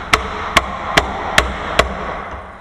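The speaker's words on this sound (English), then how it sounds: "Normally you don't have to hammer them off like this." A loose lock unit is hammered off its fitting with five sharp, evenly spaced metallic blows, each ringing briefly over a low background hum, close and loud.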